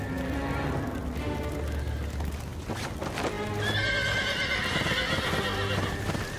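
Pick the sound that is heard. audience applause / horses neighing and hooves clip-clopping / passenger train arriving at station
horses neighing and hooves clip-clopping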